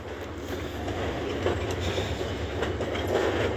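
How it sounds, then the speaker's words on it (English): A train rumbles past nearby, a continuous heavy roll of wheels on track with faint rhythmic clacking, steady and moderately loud. "Train spotters, there's a train."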